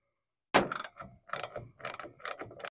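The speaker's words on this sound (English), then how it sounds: "Have a lock nut back here, so I recommend getting a wrench on there for some backup." A wrench works on a lock nut while a reel mower is taken apart, a series of close, sharp ratcheting clicks in short bursts separated by brief pauses.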